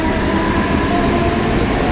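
Steady, continuous rumble of a train running on rails, with broadband rolling noise and no clear clicks, heard from inside the carriage.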